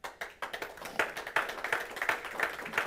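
A church congregation claps together in a quick, steady rhythm, a dense run of sharp hand claps heard at a moderate distance with no talking over it.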